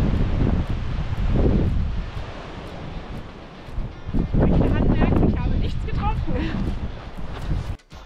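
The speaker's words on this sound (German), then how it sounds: "Diesmal haben wir aber zumindest zu Beginn der Wanderung ganz schön mit dem patagonischen Wind zu" Strong Patagonian wind on a summer hiking trail, gusting and buffeting the microphone in loud rushing surges, with people talking over it for much of the time.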